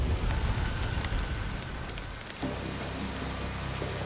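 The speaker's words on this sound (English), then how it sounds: "Then, on June 9th, the skies darken and it begins to rain." Steady rain falls on a landscape near the erupting El Fuego volcano, a dense continuous hiss of drops with low rumbling underneath, shifting slightly in texture midway.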